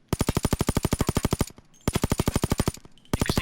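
An HK MP5 Compact 5 submachine gun firing in the video game Payday 2, with two long rapid automatic bursts and a short third burst starting at the end, loud and close with no talking.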